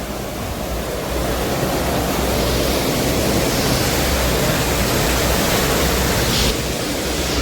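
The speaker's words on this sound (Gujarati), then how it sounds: "કડાનાળ પાણીનો પ્રવાહ છે" Heavy, constant rush of flowing water at Kadanal, Uparkot Fort, Junagadh, broad and roaring like a channel or small fall, steady with no voices.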